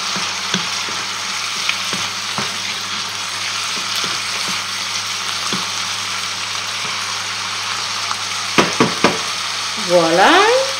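Chicken and mushrooms sizzle steadily in a pan for a chicken-and-mushroom blanquette, a constant frying hiss with a few clicks and clinks, ending in a short louder scrape or stir.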